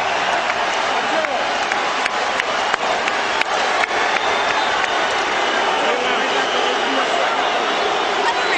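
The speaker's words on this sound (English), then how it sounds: "a round of applause for Irish Micky Ward and Arturo Thunder Gatti" After the unanimous decision in the third Micky Ward versus Arturo Gatti boxing fight, an arena crowd applauds and cheers in a steady, dense roar while an announcer speaks over it.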